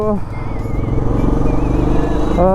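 A motorcycle engine fires up for a road ride and settles into a loud, close, throbbing idle with a steady pulsing beat, with no one speaking over it.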